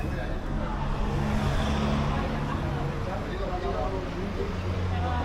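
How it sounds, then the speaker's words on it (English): Cars pass steadily on a road in Andorra, a continuous loud wash of engine and tyre noise with vehicles coming and going, and a voice talking over the traffic. "the cars coming this way, they have Spain license plates."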